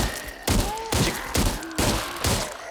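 Gunshots hitting a zombie in the VR game Arizona Sunshine Remake, five heavy thudding impacts about half a second apart, with short groaning undertones between them.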